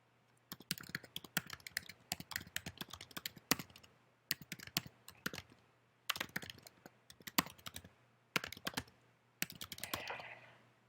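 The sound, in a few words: computer keyboard typing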